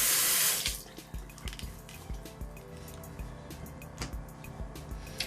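A tap pours a brief loud rush of water that cuts off, followed by quiet wet squishing and dabbing as a brush is wetted at a sink.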